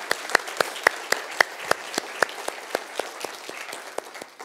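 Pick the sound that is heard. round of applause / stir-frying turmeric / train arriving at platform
round of applause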